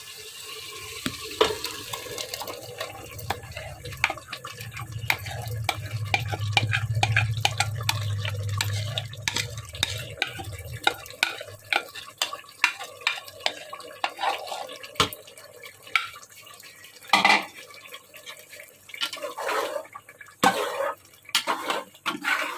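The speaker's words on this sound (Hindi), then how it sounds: "अब इसे अच्छे से मिक्स कर लेते हैं" Mutton and spinach being stirred in a cooking pot, with a run of scraping, wet clatter and sizzling, brief knocks of the utensil and a low rumble in the middle, all close and moderately loud.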